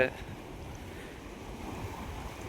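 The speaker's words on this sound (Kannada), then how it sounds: "ನೋಡಿ ಯಾವ ಪ್ರಮಾಣದಲ್ಲಿ ನೀರು ಉಕ್ಕಿ ಹರಿತಾ ಇದೆ" Floodwater of the rain-swollen Kaveri river rushing and overflowing near a bridge, a steady broadband roar of churning water heard alone and close, without talk.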